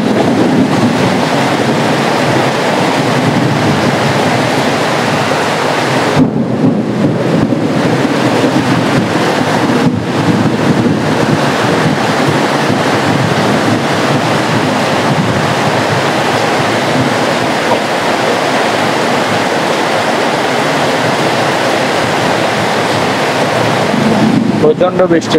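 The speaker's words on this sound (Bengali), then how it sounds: "আমাদের চট্টগ্রামে এখন প্রচন্ড বৃষ্টি পড়তেছে" Heavy rain pours at night in Chittagong as a loud, steady, dense hiss that goes on without a break, with brief dips in the wash around the middle.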